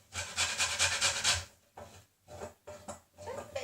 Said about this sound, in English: Lemon. I'm just going to grate.